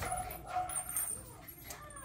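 Twelve-week-old puppies whimper and yip in short, close high-pitched bursts, with light human voice mixed in at moderate level.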